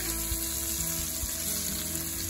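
Food browning in a hot pan on the stove, a steady, dense sizzle and crackle with faint stirring underneath, close and continuous.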